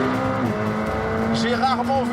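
A McLaren 765LT launches hard down a drag strip, its engine a loud, steady, close roar with rising pitch sweeps near the end, and a voice running over the top throughout.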